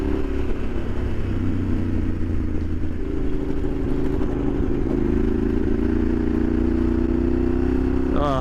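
A Yamaha Super Ténéré 1200 motorcycle engine drones loud and close under acceleration, its pitch climbing steadily as the rider rolls on the throttle, with a continuous rumble underneath.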